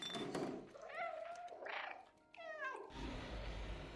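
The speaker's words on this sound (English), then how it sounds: "All right, Chakrams, you got to give us a meow here." A cat meows several times in the video game Stray, with rising and falling wails played clearly over steady game background sound, followed by a low rumble.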